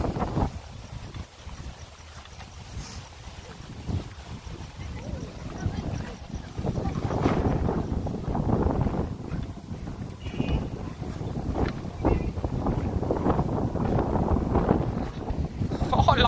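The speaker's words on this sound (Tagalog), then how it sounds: "Super lakas ang hangin." Strong gusts buffet the microphone while a kite flies outdoors, rumbling and roaring in uneven surges that grow louder toward the end, with people talking and calling out over the wind.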